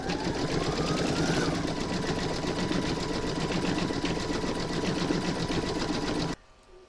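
Embroidery machine stitching an in-the-hoop coaster with red thread: fast, even mechanical whirring with a dense needle-tapping rhythm, close and steady, cutting off sharply at the end.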